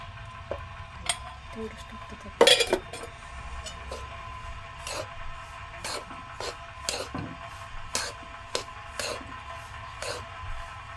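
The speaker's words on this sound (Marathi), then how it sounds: "त्याला चांगल्या प्रकारे मिसळून घ्यायचं आहे" A spoon stirring two large spoonfuls of ghee into karanji dough in a metal bowl, making repeated light scraping clicks at an uneven rhythm with one louder clatter early on, under a faint background hum.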